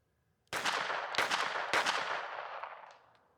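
A Ruger LCP-2 .22 pistol fires three Winchester rounds in quick succession, each a sharp crack about half a second apart, with a ringing tail that fades after the last shot.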